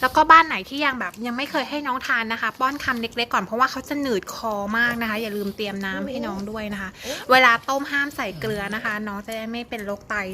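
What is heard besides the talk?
None of the usual background noises is heard.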